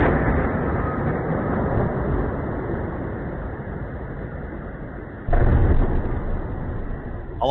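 Overnight explosions in Kursk captured in war footage: a sustained, distant roar of blasts and rumbling, with a louder burst breaking in near the end, no voices.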